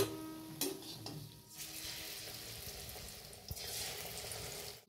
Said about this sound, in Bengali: আর এগুলো আমি উল্টে পাল্টে একটু লাল লাল করে ভেজে নেব।